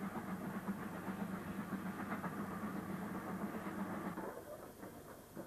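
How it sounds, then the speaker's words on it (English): A British Railways Standard Class 5 steam locomotive running tender first up the Miles Platting climb near Manchester at a fair pace, with a steady rumbling beat and rail clatter that eases and recedes near the end. "One of Patricroft's standard class 5s is tender first up Miles Platting at a fair pace."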